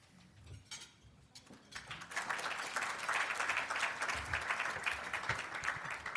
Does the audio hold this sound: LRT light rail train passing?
no